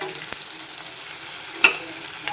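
Onion fries in a pan for Khandeshi khichadi, a soft, steady sizzle with occasional sharp clicks and taps of a spoon stirring against the pan.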